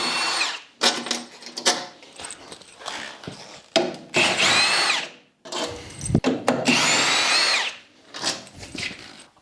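Close, loud bursts of a power drill whirring as it backs packing bolts out of a new Axminster Trade AT3327B bandsaw, broken by brief pauses and some scraping and rubbing between runs.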